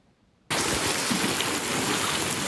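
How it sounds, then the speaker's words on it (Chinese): Heavy rain from Typhoon Gaemi in Tainan pours down in a dense, loud, steady roar that starts abruptly after a brief quiet moment and continues unbroken. "大雨落袂停"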